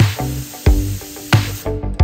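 A pneumatic painting spray gun fitted with an airflow regulator blows loud, close bursts of hissing air, several short repeated blasts as the trigger is pressed and released.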